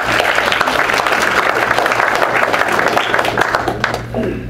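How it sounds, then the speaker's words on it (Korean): Sustained applause from an audience at a Korean commemoration ceremony for the anniversary of May 16, honoring Korean War veterans, a dense steady wash of clapping that fades slightly near the end, with a low hum beneath. "박수 한번 부탁드릴까요?"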